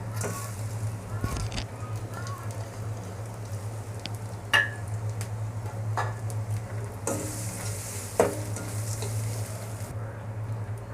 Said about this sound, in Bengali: এখন আমি দিয়ে দেব ধুয়ে রাখা মসুরের ডাল।